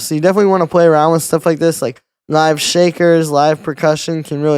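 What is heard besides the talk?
No everyday noises stand out.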